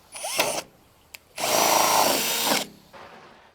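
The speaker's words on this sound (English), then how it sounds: "So starting in forwards to get the center hole, and then we will reverse the drill." A power drill fitted with a 64mm hole saw cuts a hole, running first forward to start the center hole. A short close burst is followed by a longer, steady, loud run of whirring and cutting, then a quieter tail.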